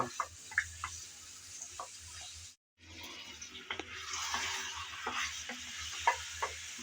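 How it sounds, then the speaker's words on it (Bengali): Yoghurt chicken stir-fried in a pan, with a steady low sizzle and repeated scraping stirs from a utensil, close and moderately quiet, briefly cutting out partway before the stirring and frying resume. "আমি কিছুক্ষণ পর এসে আবারও একটু নেড়েচেড়ে ভালোভাবে কষিয়ে নিচ্ছি"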